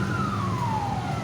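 Fire engine siren arriving at a burning government office building in Palembang, a single loud falling wail sweeping steadily downward over background rumble.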